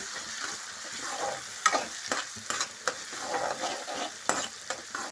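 A paste of ginger, green chili and coriander fries in hot tempering oil, giving a steady close sizzle with occasional scrapes and clinks as it is stirred.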